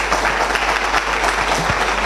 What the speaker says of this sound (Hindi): इनके लिए ताली होगा।